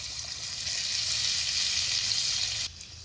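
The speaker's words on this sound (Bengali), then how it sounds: "পেঁয়াজগুলো হালকা ভেজে নিলাম, এর উপরে সবজি দিই আগে।" Onions and vegetables sizzle steadily in hot oil in a pan, a close, even hiss that cuts off abruptly near the end.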